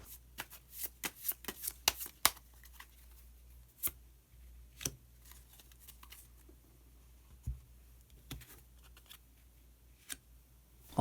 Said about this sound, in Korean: 카드 한 장을 더 뽑고 이야기 계속 나누도록 하겠습니다